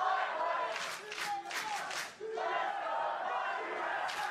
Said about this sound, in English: I like the battling chants here